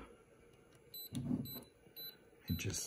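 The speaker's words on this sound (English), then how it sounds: "beeps until it takes a shot" Faint, high electronic beeps from a Canon F1 film camera's self-timer repeat at regular intervals, with a brief murmured voice and some handling noise in between.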